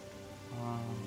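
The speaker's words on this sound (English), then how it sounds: "It's raining." Steady rain falls in Terraria, a soft even wash of patter that thickens and grows slightly louder halfway through, with no voices over it.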